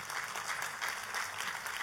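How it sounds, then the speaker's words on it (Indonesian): A church congregation applauding during a sermon, a dense, even wash of clapping that continues steadily throughout. "Oh kalau mau kasih tepuk tangan, kasih tepuk tangan."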